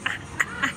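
A duck gives three short, nasal quacks, evenly spaced and fairly close, against quiet background noise.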